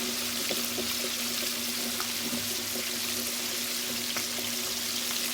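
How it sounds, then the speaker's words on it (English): Chicken leg quarters deep frying in hot oil, a steady dense crackling sizzle with scattered sharper pops, continuous and close throughout with no voices. "Now this would be considered some deep frying"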